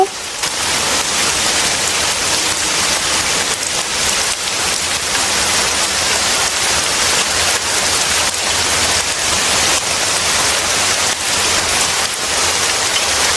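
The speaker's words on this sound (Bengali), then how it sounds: "হঠাৎ করেই অনেক বৃষ্টি পড়া শুরু হয়ে গেল।" Heavy rain pours down around a house, a dense, steady roar of drops on surfaces that stays loud and unbroken throughout, with no voices.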